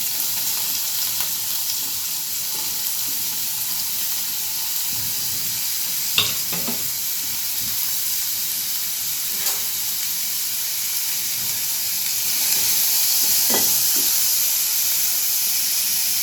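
Finely chopped onion sizzles in a little oil in a pan for momo filling, a constant close hiss with a few sharp stirring knocks and scrapes, and no voices.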